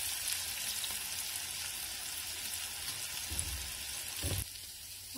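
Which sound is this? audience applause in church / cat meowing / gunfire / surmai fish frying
surmai fish frying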